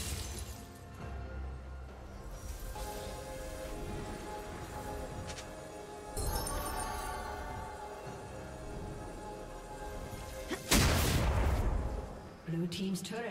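Turret destroyed in League of Legends, a loud crashing shatter bursting out near the end over a steady bed of game sound and music.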